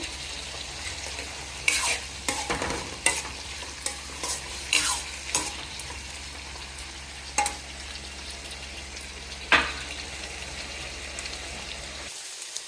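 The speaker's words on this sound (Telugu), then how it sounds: "ఇప్పుడు టమాటా కొంచెం ఉడకాలి" Tomato curry simmers and sizzles softly in a pan while a spoon scrapes and stirs in scattered sharp strokes, then the sound cuts off abruptly.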